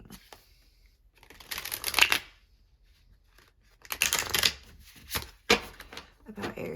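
Tarot cards being shuffled by hand, coming in three separate bursts of crisp riffling and snapping with quiet pauses between them, close and fairly loud, with no speech.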